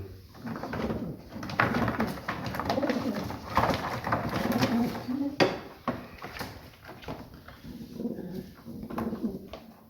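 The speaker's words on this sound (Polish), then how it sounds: "Mamy tu przygotowanych 6 gołębi, czyli 3 pary." Racing pigeons coo steadily in a loft, a dense, close chorus of soft throaty calls that runs throughout, with people talking over it.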